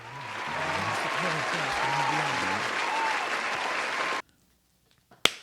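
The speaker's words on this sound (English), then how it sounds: "We hand clap for that, man." Canned-sounding applause rises and holds steady for about four seconds, a dense wash of clapping with crowd murmur and low voices beneath, then cuts off abruptly into near silence before a brief sharp click.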